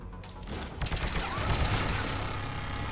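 Turret gunfire in Mass Effect 3 on Insanity difficulty comes as a dense, continuous rattle of rapid shots. The burst is loud and close, with booming impacts blended into the barrage.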